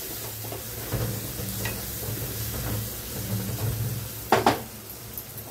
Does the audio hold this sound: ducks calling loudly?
no